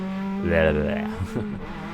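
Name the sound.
Suzuki Ciaz race car driving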